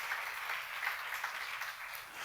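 A church seminar audience claps together in a steady, sustained burst of applause, fairly even in loudness throughout.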